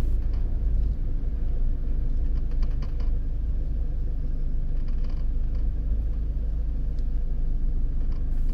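Car engine hums low and steady while creeping uphill in heavy traffic using half clutch and gas, with a constant rumble and a few faint mechanical clicks.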